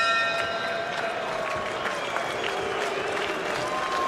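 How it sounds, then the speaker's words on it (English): A boxing arena crowd at a Floyd Mayweather fight murmurs and jeers in a sustained, far-off roar of disapproval, with faint commentary underneath. "Crowd showing some disapproval."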